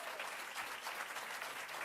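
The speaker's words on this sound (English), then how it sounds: "Let's give Kathy Burke-Gonzalez a round of applause" An audience at a New York state government celebration applauds a town supervisor with brief, even clapping that sounds distant and soft, lasting under two seconds.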